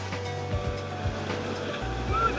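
Waves wash and surge along the Cornish coast of south Cornwall, a close, continuous rushing of surf mixed with a low engine-like hum and wind.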